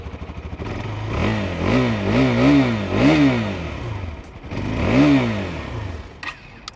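A motorcycle engine revs up and down several times in quick blips, a fairly mellow, quiet stock exhaust note close by, then settles back to idle.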